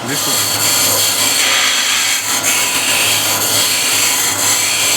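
A spindle-turning tool takes a planing cut across a wooden workpiece spinning on a lathe, giving a loud, continuous scraping hiss over a steady motor hum.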